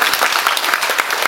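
An indoor audience claps steadily and briskly at a Balinese Legong dance talk, dense applause filling the whole moment at close range.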